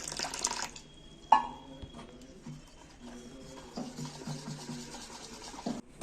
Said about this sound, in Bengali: আমি ভালোভাবে ফাঁটিয়ে মেখে নিচ্ছি আরও একটু জল দিতে হবে